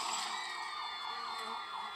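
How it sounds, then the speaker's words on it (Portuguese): Police and ambulance sirens in a video game, wailing together as one steady, distant-sounding layer of rising and falling tones. "Veio polícia, veio ambulância, veio tudo."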